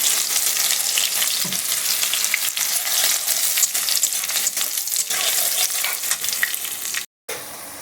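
Crushed garlic, about four or five cloves, goes into hot oil with black cumin and sets off a loud, dense, continuous sizzle that crackles without pause and cuts off briefly near the end.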